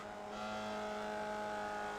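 A Formula Vee race car in iRacing at Tsukuba 2000 holds a steady, high-revving engine drone for two seconds, loud and constant before cutting off abruptly, with no speech.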